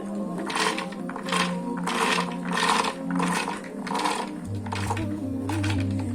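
A food processor whirs and grinds soaked beans for falafel, a steady motor hum under rough, pulsing chopping bursts, close up, with a pitch shift partway as the load changes.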